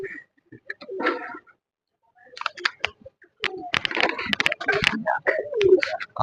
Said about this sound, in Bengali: আমাদের কবুতর ঘরে চলে এসেছি আমাদের কবুতরগুলো সবাই কিন্তু বসেই আছে এদিক ওদিক